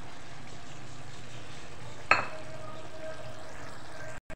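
Ground spices, salt and chili stirred into a prawn karahi in a pan, a steady low sizzle with one sharp scrape or clink midway, then a brief drop to quiet at the end.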